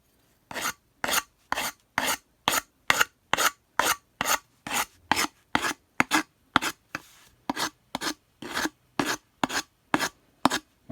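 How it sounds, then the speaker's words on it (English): A rasp files a wooden axe handle in even, rhythmic strokes, about two per second, each a crisp scraping burst, close and clear with no talk. "Let's use the rasp."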